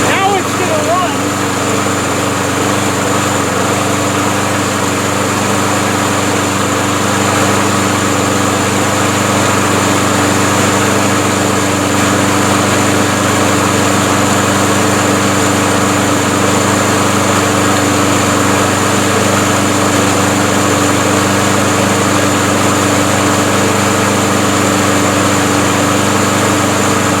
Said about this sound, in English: Second pull, and it chugs and chugs and chugs to life. Now it's going to run.